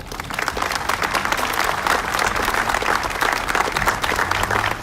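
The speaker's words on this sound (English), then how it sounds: "Keep the applause going for our former First Lady here in the City of Aurora" Sustained, loud crowd applause at the ribbon cutting and grand opening of the John C. Dunham Aurora Arts Center, steady clapping across nearly five seconds with no pause.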